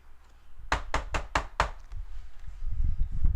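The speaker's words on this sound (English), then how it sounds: "And then there's a knock on the door." Five sharp knocks on a door come in a quick, evenly spaced run. They are loud and close, and a low rumbling background follows them.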